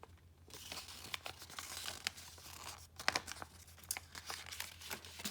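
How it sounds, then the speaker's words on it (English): Paper being folded and creased by hand during a symmetry lesson, a run of soft crinkling and rustling with a few sharper crackles, close and quiet with no talking. "It's harder and harder to fold the more times you fold."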